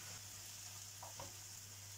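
Onions and minced meat fry in a pan with a steady, quiet sizzle and a couple of soft stirring scrapes near the middle, no voices.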